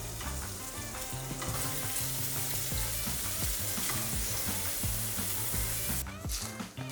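Dodla masala paneer sizzling and frying in a pan for a homestyle paneer roast, a loud, steady crackle with occasional stirring scrapes throughout.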